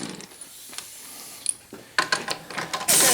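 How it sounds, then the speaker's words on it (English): A ratchet clicks in quick bursts as wheel bolts come off a 7810 tractor, with sharp metallic ratcheting and clanks that grow louder and denser toward the end, close by. "my helper, Mr. Timoteo, is removing the bolts from there"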